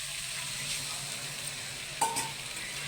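A hiss breaks out when water goes onto sizzling ground spice paste in a pan, rising briefly over a steady, quiet frying crackle, with a faint clink of utensils.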